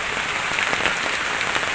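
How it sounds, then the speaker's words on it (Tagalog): Heavy rain pouring onto a surface, a dense, loud and continuous hiss with scattered heavier drops and no voices. "tumigil muna kami sa pagtrabaho kasi gawa nga ng malakas ang ulan"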